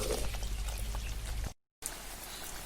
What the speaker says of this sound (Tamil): கூட மழை வேற பாருங்க, மழை எப்படி இருக்குன்னு.